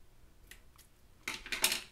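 Scissors snip notches into heat-resistant tape, a few quiet early clicks followed by a louder, closer burst of crisp cutting.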